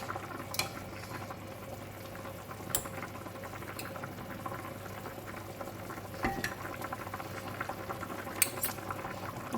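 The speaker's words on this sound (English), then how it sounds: "So I'm just let it boil in the pot there" Pork stew with vegetables bubbling in a pot, a steady low simmering churn with occasional soft clinks and splashes, close and alone with no talk.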